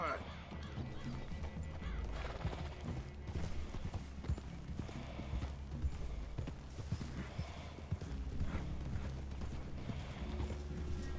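Horses in Red Dead Redemption 2 give steady clip-clopping hooves with occasional snorts and tack creaks in a wooded clearing, the sound dense and continuous at moderate level.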